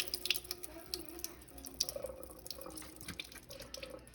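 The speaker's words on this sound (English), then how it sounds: "And then I'm going to pour out all of that liquid." Liquid is poured out of a bent-open can into a sink, a faint, uneven trickle with small splashes and drips, close by in a quiet kitchen.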